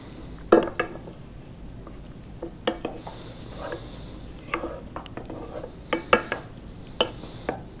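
Food being stirred in a pan, with irregular scraping and light clanks of a utensil against the metal and a faint sizzle underneath, close and moderately quiet, with no talk.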